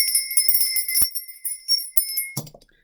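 Small high-pitched bells ring in quick repeated tinkling strikes, loud and clear, with sustained bright overtones and no talking.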